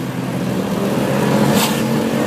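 Ford Focus RS accelerates through city traffic, its engine note a loud, steady growl that holds close throughout with a brief swell near the end.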